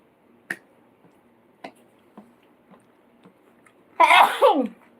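A few soft clicks and taps, then one sharp, loud sneeze near the end, close and sudden.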